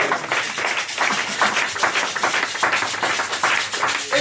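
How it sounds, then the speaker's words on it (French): Church congregation applauding during a French-language evangelical service, loud, close clapping in a steady, slightly uneven rhythm throughout. "Acclamez pour la personne."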